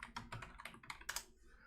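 Quick, uneven clicking of keys on a computer keyboard, a run of light taps and a few sharper strokes, close and fairly quiet with nobody speaking.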